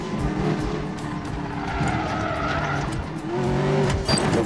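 A car drives in the Medal of Honor Warfighter video game, its engine drone and tire skids steady throughout, rising slightly near the end, with no talk over it.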